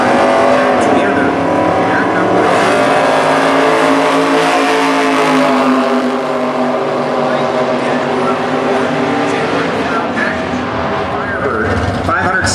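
Loud, sustained roar of drag racing engines at a Super Gas event, a 1963 Corvette and a Pontiac Firebird with a 517 cubic inch Pontiac engine, continuous and close over the whole stretch, with announcer talk mixed in.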